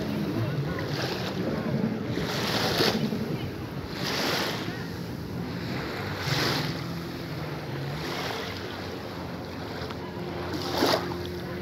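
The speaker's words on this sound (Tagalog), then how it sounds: "lumalakas yung alon" Sea waves swell and surge in repeated rolling bursts every couple of seconds, strengthening over a constant wind rush near the shore.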